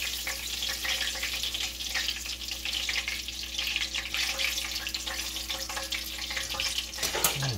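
Fish pieces frying steadily in a pot of hot grease at a homestead fish fry, a continuous close bubbling hiss with no voices over it.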